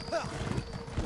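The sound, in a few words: horse hooves while riding in Elder Scrolls Online video game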